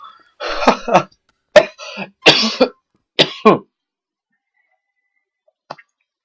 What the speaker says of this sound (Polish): ten kaszel jest po prostu takie cholerstwo się mnie trzyma